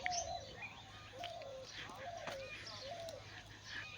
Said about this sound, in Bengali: পাখি